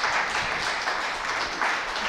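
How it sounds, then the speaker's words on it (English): An audience claps after a primary-education talk on values-based education, a steady, dense patter of applause filling the whole stretch at moderate level. "Give them a round of applause"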